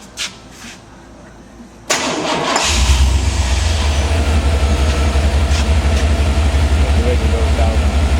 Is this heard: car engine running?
yes